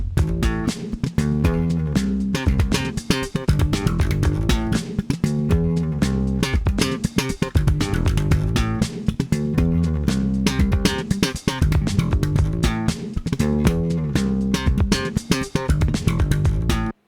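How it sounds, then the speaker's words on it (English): A funky slapped electric bass groove in passive mode on a P-bass pickup, with punchy, percussive popped notes in a steady, busy rhythm, played loud and alone. "I've got my bass in passive mode fully on the old P-bass pickup here"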